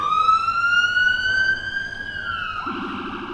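An ambulance siren wails loudly and close, a long rising tone that shifts into a rapid warbling yelp near the end, with no talking.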